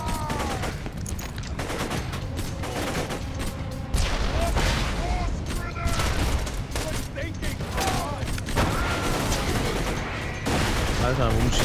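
Heavy gunfire and rocket launcher blasts in the video game Borderlands 2, dense, loud and nearly continuous bursts with sharp cracks and booms throughout, overlaid with game effects.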